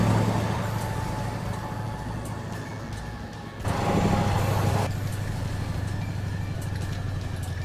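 Mack B61 truck in American Truck Simulator rolling along with a steady low diesel drone, a brief louder swell partway through, continuous and unaccompanied by speech.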